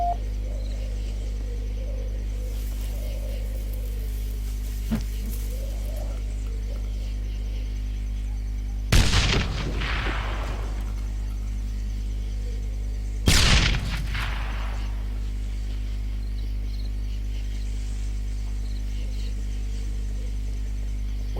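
Two heavy grenade explosions in the video game Darkest of Days boom several seconds apart over a constant low electronic hum, each a sharp blast with a rumbling tail; a faint thud comes earlier.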